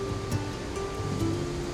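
Steady broadband rushing water, the roar of Nohsngithiang Falls in Meghalaya, dropping 340 meters, continuous and even with no voices.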